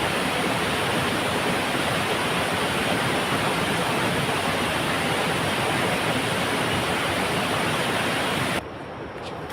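A forest stream runs in a steady, loud, broadband rush with no pauses, continuing until it drops off sharply near the end.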